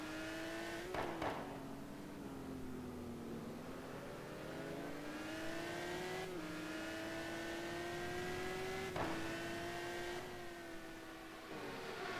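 Ferrari GT1 race cars lapping the Algarve circuit in a racing video game: a loud, continuous high-revving engine note whose pitch climbs and drops with gear changes, a few sharper shifts punctuating the steady roar.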